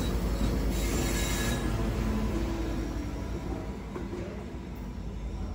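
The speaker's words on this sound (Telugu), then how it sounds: "ఈ టీఆర్ఈ ట్రైన్ ఫోర్ట్ వర్త్ నుంచి వస్తుంది డెలాస్కి." A TRE commuter train rolling into Dallas near Union Station gives off a sustained metallic squeal from its wheels over a steady rumble, loud and close throughout, with no talking.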